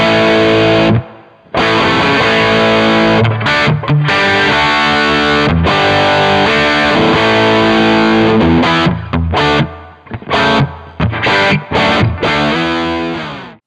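Distorted electric guitar through a Kemper Rock Box amp profile with a moderate reverb, dialed for a rough hard rock tone: loud sustained chords and riffs with brief stops and staccato hits, ending on a ringing decaying chord.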